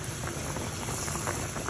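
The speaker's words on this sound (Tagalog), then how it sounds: "Habang medyo kumukulo-kulo" A ginataang tilapia coconut-milk stew bubbles and simmers steadily in a pot, a constant soft gurgling hiss with no voices.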